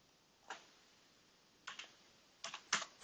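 Keys on a computer keyboard are tapped, faint close clicks arriving singly, then in quick short bursts as a word is entered into an SAP Business ByDesign expense form.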